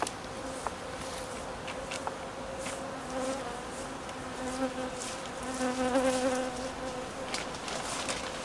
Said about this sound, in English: A couple of bees around me didn't get any smoke. They're not very calm.